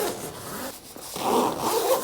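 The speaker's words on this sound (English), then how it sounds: "That zip arcs all the way across there." Zipper on the door of a Nortent Vern 1 tent being drawn along its arc, two close, scratchy pulls separated by a short pause.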